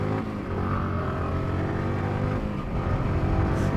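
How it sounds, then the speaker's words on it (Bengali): A motorcycle engine revving steadily during a wheelie on a Holi group ride along city roads, a close, continuous drone that swells slightly near the end, with no talk over it. "হালকা করে হুইলি মারা দিলাম।"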